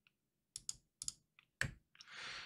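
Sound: computer mouse clicking

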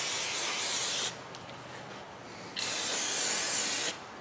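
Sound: aerosol lubricant spray by Crown being sprayed

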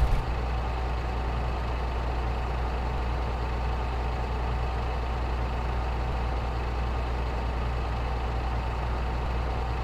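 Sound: truck engine in Truck Simulator Ultimate video game

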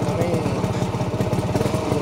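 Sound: 1991 Kawasaki HD3 125 two-stroke motorcycle engine

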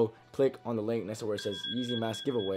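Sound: alarm clock alarm going off

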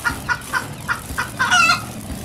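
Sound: chicken clucking

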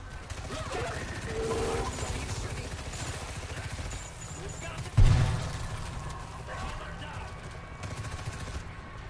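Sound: advanced SMG gunfire in World War Z video game

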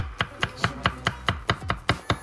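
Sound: chopping garlic with a knife

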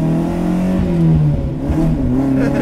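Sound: 1969 Lancia Fulvia Rallye 1.6 HF engine revving

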